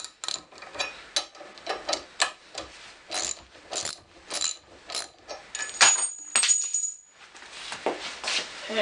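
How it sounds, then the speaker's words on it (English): Metal shim dropping and rattling out of a 1967 Mustang lower door hinge during disassembly: close, bright metallic clinks and ratcheting clicks in an uneven series, with a brief higher ring partway through. "And the shim fell out again."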